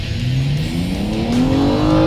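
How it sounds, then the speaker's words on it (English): A BMW M235i's turbocharged 3-liter six-cylinder engine revs hard and close, its tone climbing smoothly in pitch as it pulls, loud and alone without voices. "I think BMW makes the best sounding 6-cylinder engine."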